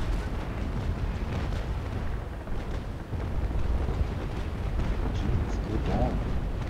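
Distant ship cannon fire in a Naval Action fleet battle near Trinco, a continuous low rumble of booming broadsides rolling on throughout with a few sharper reports, while a voice talks over it.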